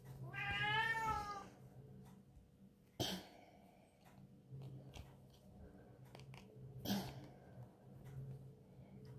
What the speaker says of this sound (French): Bunty, elle est en train de miauler